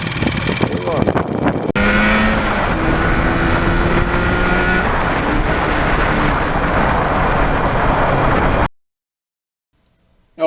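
A 1977 Yamaha RD400 two-stroke motorcycle, jetted rich and running in cold weather, revs loudly and raspily up close for about seven seconds before cutting off abruptly.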